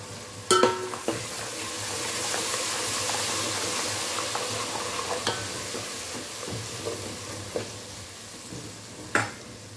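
Whipped yogurt is stirred into veg biryani masala in a hot pan, with a continuous sizzle under repeated spoon scrapes and a few sharp metallic clanks against the pot.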